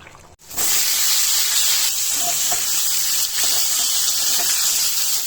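Pointed gourd frying with onion in hot oil, a loud steady hiss and sizzle starting abruptly after a brief quiet moment and running on continuously up close.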